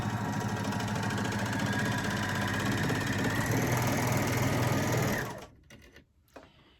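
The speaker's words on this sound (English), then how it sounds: "So I've got my 4-thread overlock all nicely balanced there." A 4-thread overlocker stitches a test seam through navy linen, running loud and steady with a fast whirring rhythm for about five seconds before stopping abruptly, leaving faint handling sounds.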